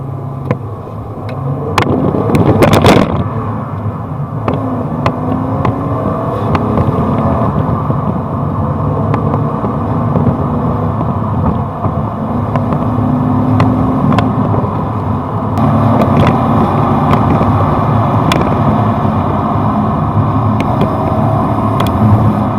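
A BMW E36 straight-six engine runs steadily while the car is driven, a continuous low droning hum from inside the cabin with a brief louder rev near the start, with no talk over it.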